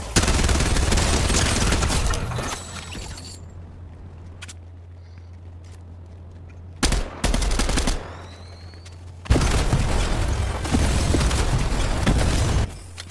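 Gunfire in the video game Fortnite: loud bursts of rapid shots at the start, then quieter sporadic sounds under a steady low hum, followed by further loud volleys near the end.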